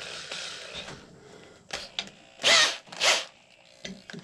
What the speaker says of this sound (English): I'm figuring most of you guys have an electric drill like this, so that's why I'm using it for the video.